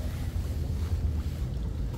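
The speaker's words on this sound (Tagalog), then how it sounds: "Malakas yung alon." Strong waves wash around a boat at sea, heard as a heavy, steady low rumble of churning water mixed with blustery wind buffeting the microphone.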